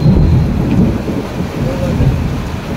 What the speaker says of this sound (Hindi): और भाई बारिश देखो आप कितनी ज़्यादा हो रही है